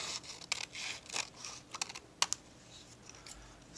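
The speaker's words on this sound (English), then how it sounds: "At this point, I just want to spend time cutting on the line" Scissors snipping through paper along a line, a run of soft, close, irregular crisp clicks and cuts at a slow steady pace, with no talking.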